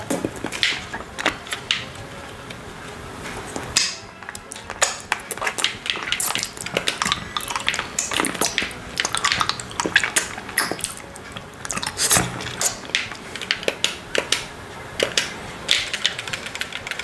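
Wet mouth sounds from an orange lollipop being licked and sucked up close, a steady run of sharp clicks, smacks and pops with brief pauses, set against faint background sound from Mario Kart 8 Deluxe gameplay.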